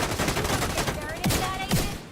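Rapid bursts of video game gunfire, dense and continuous, with a few sharper shots standing out near the end.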